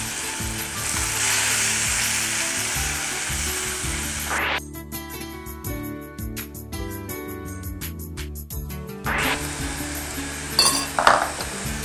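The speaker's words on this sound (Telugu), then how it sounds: "ఇందులో అదే మునక్కాళ్ళ పల్లి, ఇది కూడా వేసి బాగా ఫ్రై చేస్తాం" Drumstick pulp mixture frying in a pan with peanuts, a steady close sizzle with clinks of a utensil against the pan, briefly quieter in the middle before the sizzling swells again.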